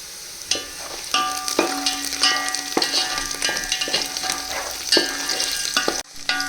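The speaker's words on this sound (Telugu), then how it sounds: "ఆనియన్స్ అయితే గోల్డెన్ బ్రౌన్ కలర్ వరకు ఫ్రై అయిపోయింది." Onions sizzle in hot oil as they fry golden brown, with a utensil repeatedly stirring and scraping the pan in clear, uneven strokes over a steady frying hiss, close up and with no talk.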